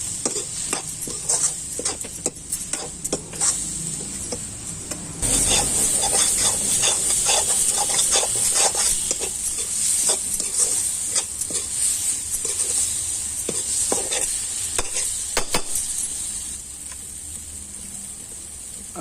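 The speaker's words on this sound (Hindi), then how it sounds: "अब इसे अच्छे तरीके से मिक्स कर लेंगे।" Mutton with coriander powder is stirred in a hot pan, a loud continuous sizzle and hiss with repeated close scraping strokes of the spoon, rising in intensity partway through.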